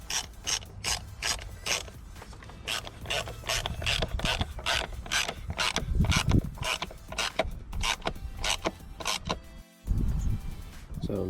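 Rapid, steady ratchet clicks as rocker cover bolts are tightened on a Mini R53 engine, close and loud in repeated bursts with a brief pause near the end.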